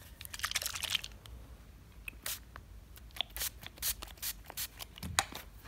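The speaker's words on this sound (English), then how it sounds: "I will try to spray this Pure Hydrate spray on a regular towel." Short hissing bursts from a Pure Hydrate spray bottle misted onto a regular towel, a quick cluster of sprays followed by several separate spaced pumps, close and fairly quiet.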